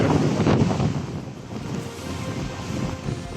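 Strong waves and gusting wind from Typhoon Francisco at Basco, Batanes, a loud rushing roar of surf and wind buffeting the microphone, continuous for a few seconds.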